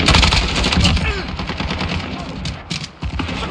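Rapid automatic gunfire from a Call of Duty Modern Warfare team deathmatch rattles on loudly and continuously in close, dense bursts, briefly dipping near the end before resuming.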